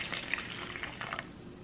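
Lukewarm water pours steadily into a bowl of flour for tortilla dough, a soft continuous splashing and trickling running for under two seconds with no voices.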